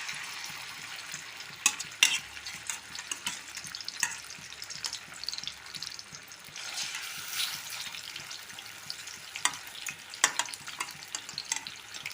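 Fish frying in a generous amount of oil on low heat, a continuous soft crackling sizzle with occasional sharper pops and brief stirring clatter, moderately close and without talk.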